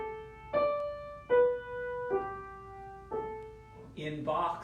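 A hymn melody on piano in a lyrical setting, played as a slow run of sustained single notes with long decays, each note struck clearly and ringing alone before a brief flurry at the end.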